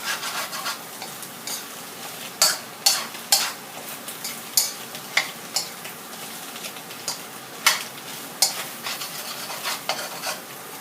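Vegetables being stir-fried for dry-style sukiyaki in a pan, with a soft steady sizzle and sharp repeated scrapes and clanks of a utensil against the pan at an irregular pace, and no voices.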